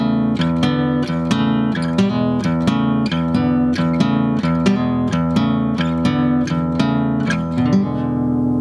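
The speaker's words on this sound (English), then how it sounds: "the shuffle that we're going to be working with today sounds like this" Guitar plays an old-school blues shuffle rhythm with a steady, swinging pattern of repeated chord stabs, loud and continuous with no talking.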